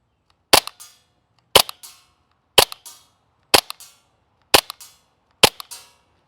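Six evenly spaced airsoft shots fire BBs, about one per second. Each is a sharp, snappy crack followed by a short rattling tail, close and loud against near silence.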